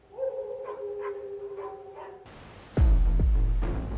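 A dog barks several times at a distance on a quiet night outdoors during a UFO investigation, with a brief tonal hum early on and a louder rumble taking over near the end.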